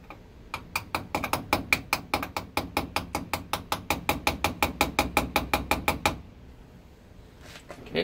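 Steady metallic hammer taps on a Kawasaki KZ400 carburetor part, about two per second, ring out sharply for six seconds before stopping, close by with a faint hum underneath.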